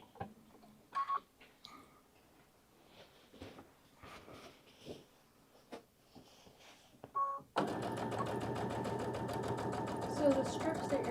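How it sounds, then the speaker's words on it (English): A sewing machine stitches across quilt fabric during edge-to-edge quilting of a tote bag. Faint clicks and voices come first, then the machine starts with a loud, steady, rapid mechanical whir that runs to the end. "And I'll just sew across that."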